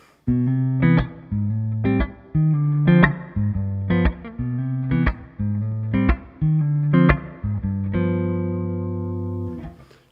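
A Gretsch Jet electric guitar with its tone switch flipped down plays a warm, mellow run of clean chords and single notes in a steady rhythm, close and fairly loud, ending on a long sustained chord.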